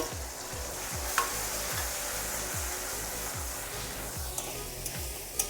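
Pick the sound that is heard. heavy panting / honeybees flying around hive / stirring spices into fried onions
stirring spices into fried onions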